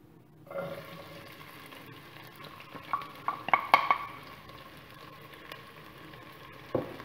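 Onions go into a pot of hot vegetable oil for a Macedonian roasted pepper and grilled meat stew. A soft sizzle rises as they land, then clinks and scrapes of a utensil against the pot follow, all fairly quiet.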